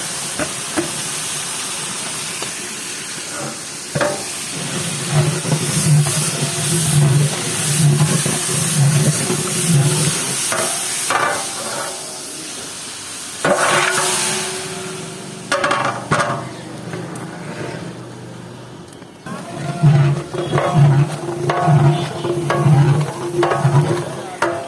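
Ginger-garlic paste and spice masala stirred and frying in a pan, a steady hiss and sizzle with scraping stirs, broken by a few louder clatters and a low rhythmic pulsing hum in stretches.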